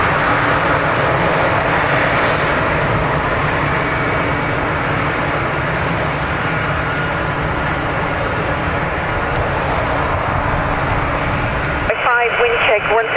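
Jet airliners taxiing past at Dublin Airport, a loud continuous engine roar close by that holds steady before dropping away near the end.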